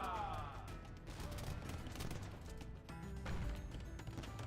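Hand cannon gunfire in a castle siege of a strategy video game, a dense steady roar of overlapping shots and impacts throughout, fairly faint in the mix with no talk.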